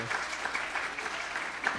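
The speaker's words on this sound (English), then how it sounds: "I'd ask for a round of applause for our friend Tom McLeod" Audience at an open government workshop applauds steadily for the full stretch, a dense even patter of clapping from a room of people, moderately loud with no voices over it.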